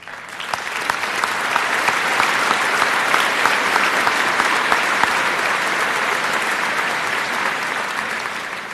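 A large audience at the 2016 Wadsworth High School commencement gives the valedictorian a round of applause, a full, steady wash of clapping that stays loud and even for about nine seconds.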